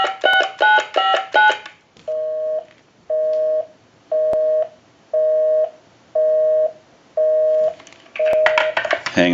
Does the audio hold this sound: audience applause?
no